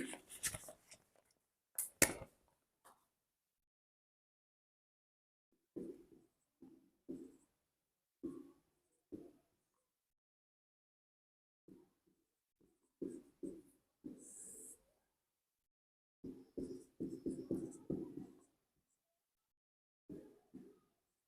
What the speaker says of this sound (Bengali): দেখো কোশ্চেনটা আমি তোমাদের বোর্ডে লিখছি।